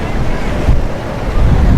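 Rushing floodwater in a swollen monsoon-season river, with a steady broadband roar of waves and surging water, loud and continuous, swelling in bursts, with wind buffeting the microphone.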